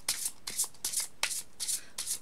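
A deck of cards is riffle shuffled in about six quick, crisp bursts, close and clear with no talking.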